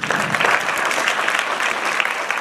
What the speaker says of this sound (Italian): dunque un applauso preventivo anche per il dottor Antonio Manzo